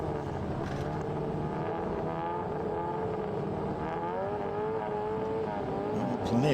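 Group S race car engines revving hard on the grid at the start of a circuit race at the Winton Festival of Speed, several engines blending into a loud, continuous roar that climbs in pitch toward the end.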